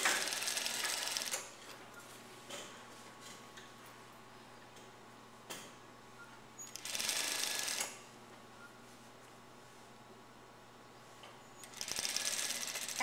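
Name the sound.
sewing machine stitching blouse princess seams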